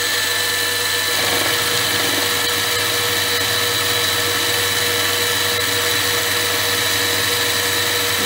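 Lathe turning steadily at roughly 900 RPM with an insert fitted, giving a continuous even machine hum with a constant tonal whine, no talk.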